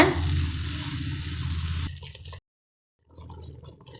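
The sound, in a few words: carrot halwa cooking with sugar, being stirred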